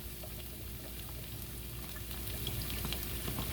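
Butter sizzles steadily in a hot pan for shrimp scampi, a dense crackling fry that holds at an even level and builds slightly toward the end, with no voices over it.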